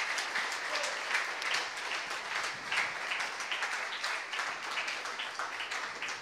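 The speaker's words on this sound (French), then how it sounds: "On peut les applaudir aussi." A church congregation gives the worship musicians a warm round of applause at a service, steady and fairly soft, many hands clapping evenly for several seconds.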